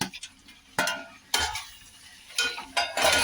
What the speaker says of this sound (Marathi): आता इथं मी पनीर पण टाकते याच्या संग आणि चांगलं असं मिक्स करून घ्यायचं आपल्याला